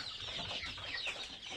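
Chickens clucking inside a poultry farm enclosed with polythene sheeting, several birds murmuring and clucking together in a soft, continuous close chatter.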